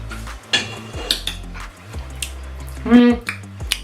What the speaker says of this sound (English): I'm just going to scrape that off the spatula, dollop that in the middle